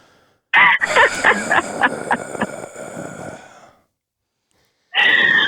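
Loud, heavy breathing close to the mic, a run of rapid panting breaths that fades out, then another strong breath after a short silence.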